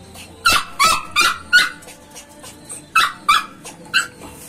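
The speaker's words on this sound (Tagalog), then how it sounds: "Maliliit na aso lang to." Miniature pinscher dogs give a series of sharp, high yips and barks mixed with whimpers, close by and coming in irregular bursts of two or three.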